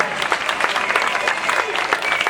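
A crowd at an outdoor amateur talent show in Ruvo di Puglia applauds the adult section winner with steady, lively clapping throughout.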